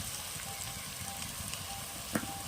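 Ginger paste sizzles steadily in a hot pan with onion and garlic for a chicken dish, a soft continuous frying hiss with faint crackles and one small clink near the end, no talking.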